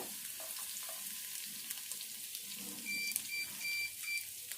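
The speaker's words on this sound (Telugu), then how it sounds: "మంచిగా గోల్డ్ కలర్ వచ్చేదాకా మంచిగా తాలింపులను అయితే వేగాలి" Soft, steady sizzle of coarsely crushed garlic frying in oil, faint throughout, with a few brief electronic beeps near the end.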